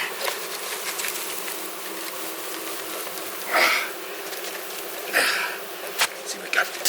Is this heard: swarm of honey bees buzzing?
yes